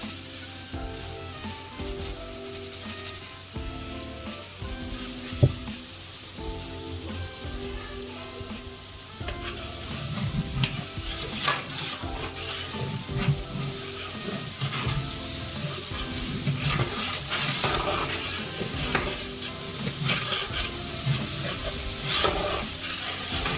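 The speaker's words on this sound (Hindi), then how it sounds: "ये हम इसके अंदर गरम मसाला शामिल करेंगे, उसको थोड़ी देर भूनेंगे" Spinach with garam masala being fried and stirred in a pot for a rice spinach pulao, a steady sizzle with scraping stir strokes that grows louder and busier partway through, no talking.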